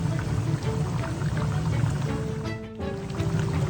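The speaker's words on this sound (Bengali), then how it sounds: "ঝোলটা আমাদের খুব ভালো মতন ফুটে গেছে, এবারে মাছগুলোকে আস্তে আস্তে আমি দিয়ে দিচ্ছি" Pieces of hilsa fish are slipped one by one into a boiling Bengali-style curry with potato and eggplant, giving a continuous bubbling, liquid rumble that briefly dips before resuming.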